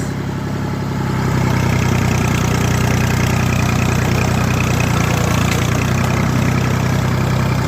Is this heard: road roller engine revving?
yes